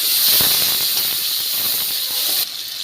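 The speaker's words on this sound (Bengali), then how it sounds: "তেলে সামান্য পরিমাণে হলুদ দিয়ে দিলাম যাতে না ফাটে তার জন্য দিয়ে দিচ্ছি টমেটো একটু নাড়াচাড়া করে নিচ্ছি" Tomatoes dropped into hot oil with turmeric and stirred, producing a loud, steady hiss of frying that drops off abruptly near the end, with no one speaking.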